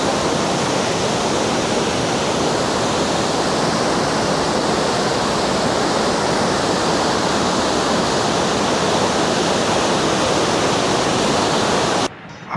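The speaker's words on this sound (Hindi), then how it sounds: "काफ़ी शोर है पानी का।" Fast, clear river water rushes near Mahodand Lake beside a small trout restaurant, making a loud, dense, unbroken roar of broadband noise that holds steady throughout and cuts off abruptly at the end.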